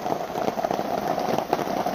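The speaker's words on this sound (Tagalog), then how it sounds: "Ang problema, umuulan pa sa labas." Steady rain patters outside in a dense, even hiss with scattered louder drops, continuous throughout and fairly close.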